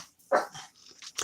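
A single short dog bark, close and sharp, followed by faint scuffling noises.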